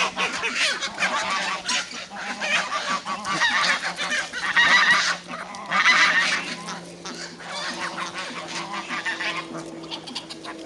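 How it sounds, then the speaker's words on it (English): A flock of geese honks repeatedly and loudly nearby in an outdoor setting, with overlapping nasal calls coming in waves that swell in the middle and then continue more steadily. "the geese are also an early warning alarm if there's a predator around."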